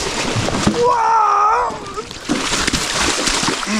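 Splash of a bicycle tipping over into a river at a water crossing while bikepacking in New Zealand's South Island, a loud close sloshing crash with a brief voiced cry mixed in.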